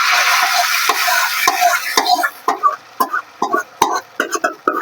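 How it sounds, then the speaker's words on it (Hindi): Lentils hiss and sizzle loudly in hot tempering oil with browned onions, then the frying gives way to a series of sharp scraping stirs in the pan. "दाल में लगा दिया हमने अच्छे से तड़का"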